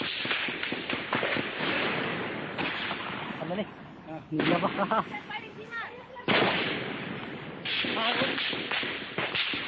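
Gunfire erupts during a Naxal attack in the jungle around a police station in Chhattisgarh, with dense, loud bursts of shots cracking over and over in waves for nearly ten seconds.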